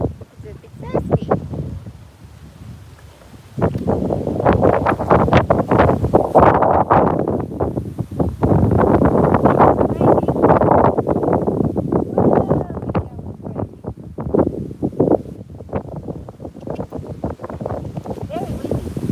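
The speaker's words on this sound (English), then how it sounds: "Very windy." Strong wind buffets the microphone in long roaring gusts outdoors, rising and falling over about twenty seconds, with a person talking at times through the rumble.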